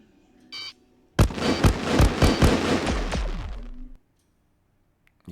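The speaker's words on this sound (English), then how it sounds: "Incoming missile." Incoming missile in the Freelancer space game, with a brief beeping alert followed by a loud burst of rapid crackling blasts and whooshes lasting a few seconds, then cutting to silence.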